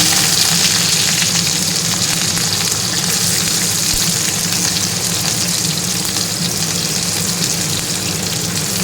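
Small onions frying in hot oil with popped mustard seeds in a heated pan, a loud, dense, continuous sizzle and hiss that holds steady throughout, without talk.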